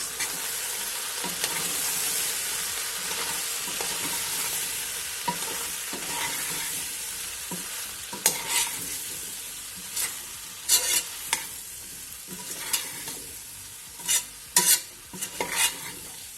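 A potato and rib stew with dried rosemary stirred in a pot, giving a steady sizzle with soft scraping and a few sharp clinks of the spoon against the pot toward the end.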